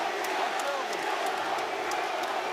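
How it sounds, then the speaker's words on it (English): A boxing crowd cheers at Madison Square Garden during a bout between Teofimo Lopez and Josh Taylor, a dense, steady roar of many voices with scattered shouts and whoops filling the arena throughout. "you can hear the crowd, the support here"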